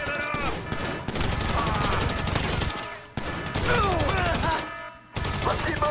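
Heavy gunfire fills a GTA 5 shootout inside a breached agency security facility, with dense, continuous fusillades and bursts of automatic fire that drop out briefly and resume, laid over game music and background noise.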